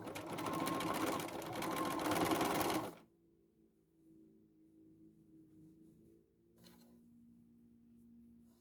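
A sewing machine runs a zigzag stitch on a bag being upcycled, a loud steady burst of rapid needle whirring for about three seconds that stops abruptly, leaving low room hum and a faint brief rustle.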